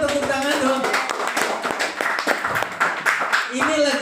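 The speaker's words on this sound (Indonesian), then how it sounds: "Boleh dong tepuk tangan dong." A small audience breaks into clapping at a health talk, scattered hand claps with voices talking over and between them, fairly close and uneven in rhythm.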